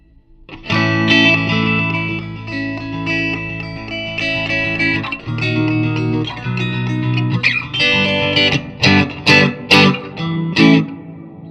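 An electric guitar plays chords and picked notes through a Nux Mighty60 MK2 amplifier's damp reverb, thick and airy, the tails washing out between phrases, ending in a few sharp plucked notes.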